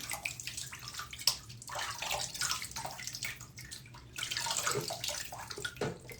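Water runs from a tap while someone rinses off during a shave, a close, steady splashing hiss that shifts in strength as hands move through the stream, with no talk.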